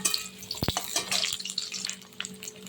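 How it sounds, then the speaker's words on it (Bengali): Large cut and washed potato pieces frying in a pan, heard as a close, uneven sizzle with a sharp knock early on and scattered stirring noises, with no talk. "আমি কেটে ধুয়ে রাখা আলুগুলো দিয়েছি, আলুর সাইজটা একটু বড় রেখেছি।"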